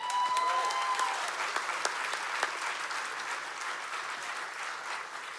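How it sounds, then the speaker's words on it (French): Dense, sustained audience applause at the closing ceremony of the Gérardmer fantastic film festival, a full hall clapping steadily for over five seconds with a brief tone at the start, fading slightly toward the end. "et vous pouvez l'applaudir."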